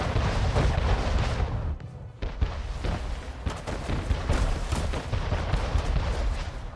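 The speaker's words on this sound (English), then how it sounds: "Oh no, that Big Betty's shooting at us." Ship cannons boom in the Anno 1800 video game, a dense barrage of heavy blasts that rumble almost continuously, with a brief lull before the firing resumes.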